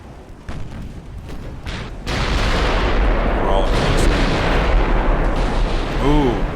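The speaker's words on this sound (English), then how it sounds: "I saw an explosion there." Naval guns fire and shells explode in a battle in the warship game Ultimate Admiral: Dreadnoughts, a sudden heavy boom followed by a dense rolling rumble that stays loud to the end.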